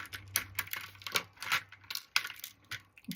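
Small craft beads clatter and click as they are sorted into a plastic storage container, a quick irregular run of light tapping and rattling bursts at close range with no talk.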